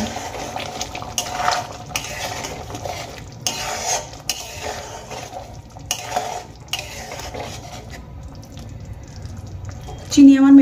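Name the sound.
stirring sugar into egg curry gravy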